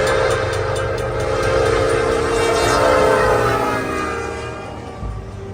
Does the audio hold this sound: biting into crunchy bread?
no